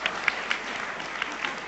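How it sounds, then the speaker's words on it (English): A crowd at a talk claps in appreciation of actor Irrfan Khan, a brief, moderately loud burst of applause with a few sharper individual claps standing out near the end. "He can have a round of applause for that"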